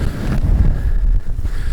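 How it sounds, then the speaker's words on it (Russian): Strong wind gusts across an open frozen lake during winter pike fishing, a steady loud low rumble buffeting the microphone for the whole stretch, with no voices. "Это ветрило сегодня."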